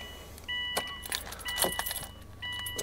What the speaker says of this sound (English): put the ignition on now